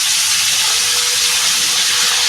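Steady, loud sizzling hiss of tengra fish frying in oil in a pan, continuous and close with no pauses and no talking.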